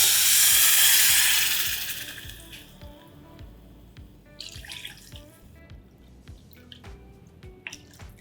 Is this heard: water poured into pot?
yes